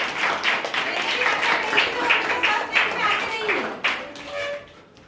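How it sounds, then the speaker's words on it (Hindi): A crowd of students claps in a school classroom to welcome a pupil at an exam results announcement, a steady round of applause that tapers off near the end, with a voice speaking over it. "जोरदार ताली से स्वागत करें"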